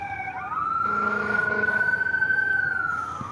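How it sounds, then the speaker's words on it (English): Emergency vehicle sirens wail at a small-town Fourth of July parade, a loud rising and falling tone that sweeps up and holds steady for several seconds, close by with no talk over it. "There's the sirens."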